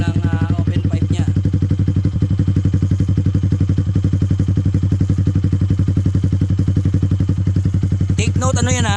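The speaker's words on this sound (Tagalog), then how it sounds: "yung tunog ng open pipe nya" A Yamaha Sniper 150 motorcycle with a Yoshimura open-pipe exhaust and stock ECU throbs loudly up close in a fast, steady pulsing rumble that rises briefly at the start and end.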